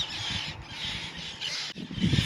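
Dense, loud chorus of raucous seabird cries on a bird island off Koh Phaluay in the Ang Thong marine park, overlapping continuously and close by, with a brief dip before the squawking swells again.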